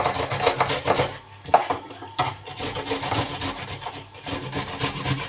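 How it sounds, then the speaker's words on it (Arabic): An onion is rubbed against a hand grater over minced meat, making a steady, close rasping scrape of repeated strokes with a couple of brief pauses. "المبشره هبشر بقى ايه البصل على اللحمه كده"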